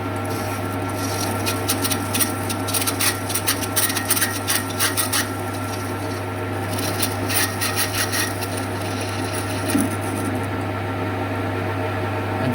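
A saw cuts identical washers off a metal rod, with bursts of rasping strokes over a steady electrical hum and pauses between cuts.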